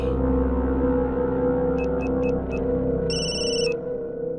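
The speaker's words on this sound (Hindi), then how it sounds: "हाँ बोल टिल्लू, अचानक कैसे फोन कर दिया?" A telephone rings in short electronic bursts, four quick chirps then a longer trill, over a steady low hum.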